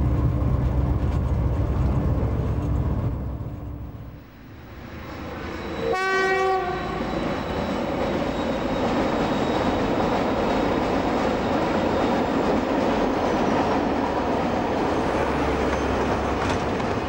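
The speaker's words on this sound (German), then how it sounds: "Für die leistungsstarken Blue Tiger sind die schweren Kalksteinzüge kein Problem." Pair of Blue Tiger diesel locomotives hauling a heavy limestone train on the Rübelandbahn, a loud horn blast sounding mid-pass amid the sustained roar of engines and rumbling wagons rolling close by.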